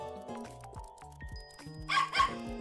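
A small dog yaps twice in quick succession near the end, sharp and fairly close, over steady background music with no speech.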